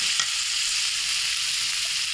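Ginger, garlic and coconut paste frying in a pan, a steady dense sizzle holding evenly for a couple of seconds with no voices.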